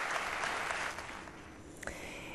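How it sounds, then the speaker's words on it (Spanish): Applause follows the end of a speech: a dense patter of clapping that fades after about a second, leaving quieter room noise and a few stray claps. "sensiblemente emocionado y con aplausos, puso punto y final a su intervención Fernando Andrés"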